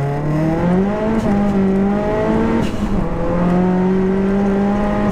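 A fully forged big-turbo 480bhp Seat Leon Cupra R spinning its wheels, the engine droning loud and close at high revs with rising and falling pitch, a harsh continuous roar with tire noise underneath.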